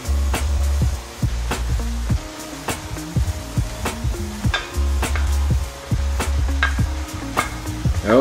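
Purple onion, green bell pepper and chopped garlic sizzle and fry in a pan, with steady crackling and repeated scrapes and stirring clatter from a utensil against the pan throughout.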